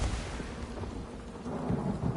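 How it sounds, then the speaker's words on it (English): A thunderstorm in the Elder Scrolls Online game rumbles as a dense, loud low roar mixed with rain noise, continuous and fairly close for a couple of seconds with no voices. "but the storm's clearing"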